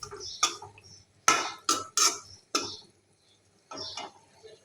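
A lid is set onto a cooking pot of fish: a few sharp metallic clanks and rattles in quick succession, close by, then a brief quiet before a softer final clatter.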